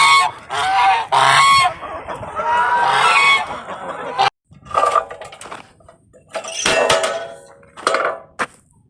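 A goose honks repeatedly in a backyard poultry setting, loud and close, in irregular bursts with short pauses, mixed with some clattering and wind noise.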